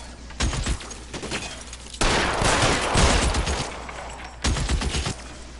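Rapid gunfire in the video game L.A. Noire, dense volleys of shots in bursts from the start, with a loud sustained barrage in the middle and a further burst near the end, no talking.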